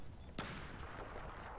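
A single sharp gunshot cracks out in the Battlefield 4 video game, with a faint rumble of game noise and distant shots behind it.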